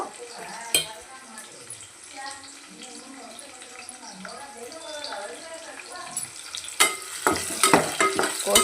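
Mustard seeds and onion frying in hot oil while cooking cabbage palya, a continuous close sizzle with stirring scrapes and sharper crackling bursts toward the end.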